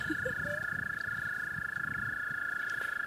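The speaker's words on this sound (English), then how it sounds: "Frogs are singing." Frogs croaking outdoors near water, a faint steady chorus with a constant high trill and scattered low calls, distant and soft.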